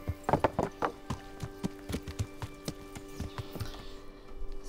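Horse hooves clip-clop at a quick gallop in the medieval role-playing game Kingdom Come: Deliverance, a steady rhythm of close, sharp hoofbeats over steady background music.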